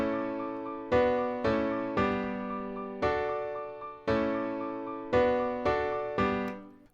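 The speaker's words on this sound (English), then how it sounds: "I have loaded up this piano, the Grandeur, from Kontakt Native Instruments." A dry, unprocessed Grandeur virtual grand piano from Native Instruments Kontakt playing a slow sequence of sustained chords, each decaying cleanly before the next, close and clear with no voices.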